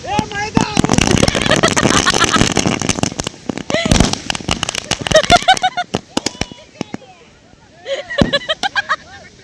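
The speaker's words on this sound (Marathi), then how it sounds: "गड्डे बनवतायत आणि त्यात फटाके फेकतायत." Firecrackers go off in a dug pit during a Ganpati immersion at Kunkeshwar, Devgad: repeated sharp, loud bursts and crackling volleys, with crowd voices and talk around them.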